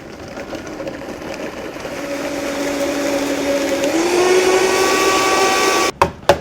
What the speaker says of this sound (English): So I'm just gonna blend this up